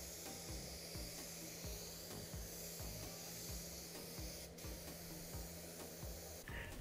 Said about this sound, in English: I spray the edges, jams, and hard to reach areas first, then the larger outside areas.